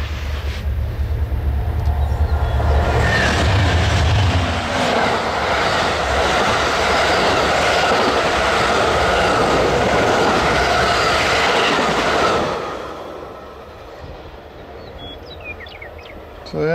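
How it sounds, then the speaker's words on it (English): An Amtrak passenger train on a rural North Dakota–Montana line roars past close by for about ten seconds, a loud steady rush of wheels and wind that cuts off abruptly and leaves quieter ambience. "Well, here comes Amtrak."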